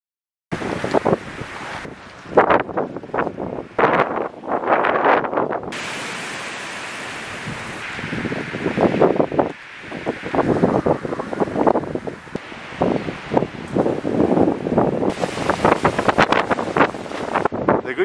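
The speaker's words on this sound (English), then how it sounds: "This video is gonna be windy." Strong wind and rain buffet the microphone on a farm during extreme weather, a loud, continuous roaring rumble with gusty surges and brief lulls throughout.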